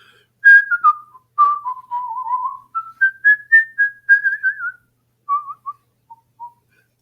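A single person whistles a lively melody, phrases rising and falling with short pauses, fading toward the end.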